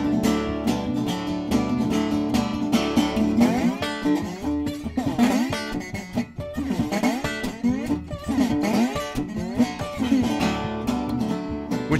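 Musical imitation of a big train moving fast and splitting rails: loud, dense, steady rhythmic playing with sliding, bending pitches that runs continuously without a break.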